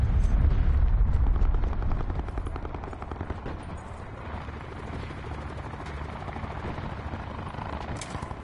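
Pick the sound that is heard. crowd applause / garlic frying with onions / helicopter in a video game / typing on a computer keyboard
helicopter in a video game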